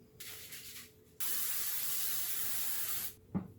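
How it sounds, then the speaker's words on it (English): Pam cooking spray hisses onto a pan in a short burst, then a longer steady spray of about two seconds, followed by a soft knock. "Now we are going to spray our pan with Pam."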